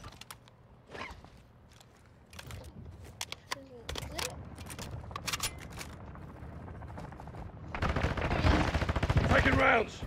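Gunfire in the Call of Duty DMZ game mode: scattered sharp shots and clicks, then a dense burst of rapid automatic fire toward the end, with voices talking over it.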